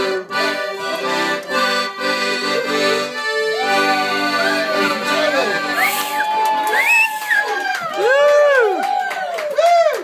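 Audience cheering and whooping after an accordion performance at a live show, sustained crowd noise with excited shouts and rising and falling voices throughout, loud and close.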